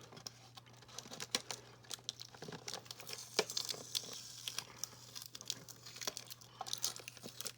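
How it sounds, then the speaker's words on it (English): Adhesive tape peeled and torn away from the packaging of a Barbie movie Ken doll box, a busy run of close crinkling, ripping and scratchy crackles with short bursts throughout, no talking. "try to get this tape up"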